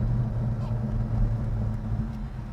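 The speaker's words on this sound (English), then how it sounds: "And that exhaust, man, it sounds good" Exhaust of a 1969 Pontiac Grand Prix SJ with a 4-speed, a steady low, throaty rumble idling close by for a couple of seconds with no other sounds on top.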